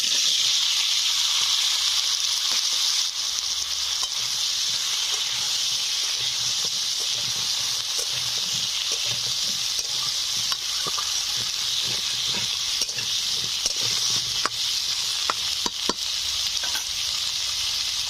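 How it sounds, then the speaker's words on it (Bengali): Potatoes fry in oil left over from frying katla fish, giving a steady, loud sizzle and hiss throughout with occasional crackles and faint stirring, no voices. "মাছ ভাজার কিছুটা তেল রয়েছে, এই তেলে আলুগুলোকে ভেজে নেব।"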